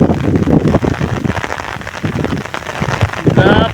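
Heavy rain pours onto a road in windy weather, a dense, loud patter of drops close by that never lets up.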